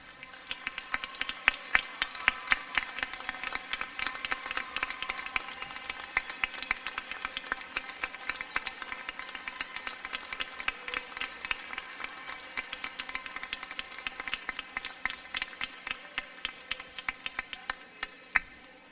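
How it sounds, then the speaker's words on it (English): Graduates at an IUP undergraduate commencement give a long, steady round of applause, the dense patter of many hands continuing evenly throughout, somewhat distant and soft in a large hall. "please stand so that the graduates may show their appreciation by a round of applause."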